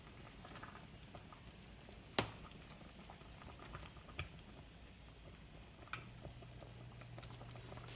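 Blackberry cobbler sauce cooking over medium-high heat gives a faint, soft bubbling patter with occasional small pops and clicks scattered across the quiet background.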